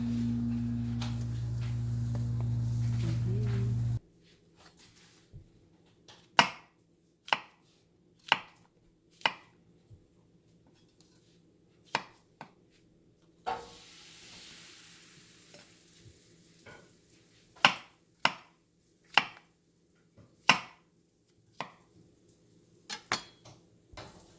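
Mushrooms being chopped for a butter garlic mushroom sandwich, a string of sharp, separate knife strikes on a board with short pauses between them, close and clear, after a few seconds of low steady background noise at the start.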